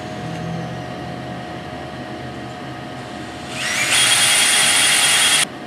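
A power drill whirs up at about 3.5 seconds while starting holes in a boat trailer fender. The motor gives a steady, loud high whine for about two seconds and then cuts off, over a low room hum.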